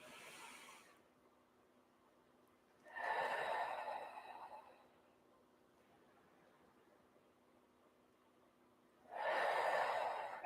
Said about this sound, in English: Take 2 deep breaths here.